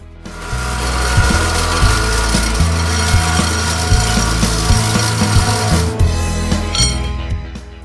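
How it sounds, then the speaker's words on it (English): Steel pipe is cut to length and its ends ground smooth for a camel saddle frame, producing loud, steady abrasive rasping and grinding with rhythmic low knocks and a brief pause near the end. "I like to use pipe for strength, so I cut them to length and grind the ends so there are no sharp edges"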